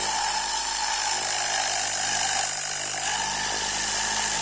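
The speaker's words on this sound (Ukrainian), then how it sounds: "Зараз я покажу вам, як працює торнадор на практиці. Запускаєте. Ось пішла хімія." A Tornador air-powered cleaning gun sprays cleaning chemical onto a car interior. It makes a loud, steady whirring hiss that runs without a break, close up.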